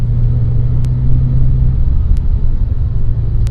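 Loud, steady low engine rumble from a Ferrari Mondial T with a longitudinally mounted engine and transverse gearbox, heard from inside the car while driving, with a few faint clicks over the drone.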